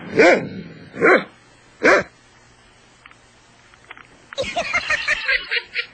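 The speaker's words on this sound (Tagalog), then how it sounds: "Daming aso dyan ah." Three loud, close dog barks spaced about a second apart, followed by a quiet stretch and then a burst of mixed barking and noise.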